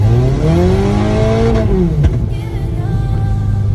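A Honda Civic Si EP3 engine revs hard and climbs into VTEC, its close, loud tone rising and then falling away as the revs drop, with no talking.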